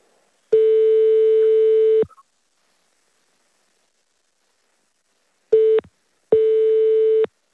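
A telephone ringing tone sounds while a call to a hotel connects: a long steady tone, a pause, then a short burst and another long tone, loud and clean with no talk.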